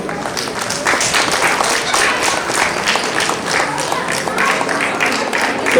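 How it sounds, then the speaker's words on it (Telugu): Loud, dense applause at an Ugadi lighting ceremony as a crowd claps steadily, with possible chatter mixed in for the full stretch. "చప్పట్లతో"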